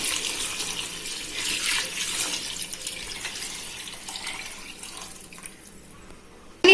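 Measured water pours into a cooked tomato mixture for tomato rice in a pot, a steady close splashing stream that slowly tapers off over several seconds, with no talk.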